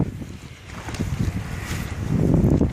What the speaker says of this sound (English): Kinda windy now